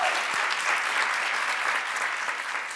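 Audience applause fills the hall, steady and dense, sustained loudly throughout without a break.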